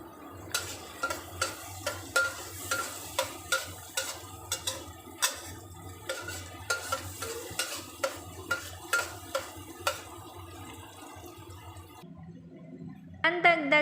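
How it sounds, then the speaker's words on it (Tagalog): Garlic sautés in melted butter in a pan for pasta, a soft steady sizzle under repeated sharp clinks of a utensil stirring against the pan, with talk over the cooking and a brief pause near the end. "At syempre pag nag-melt na ang ating butter, yan, saute na natin ang ating garlic."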